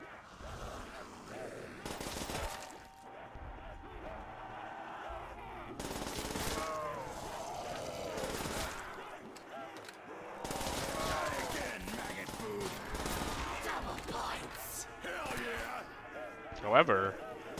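A PPSh submachine gun fires in Call of Duty Zombies on the Shi No Numa map, repeated rapid bursts at moderate level under ongoing talk.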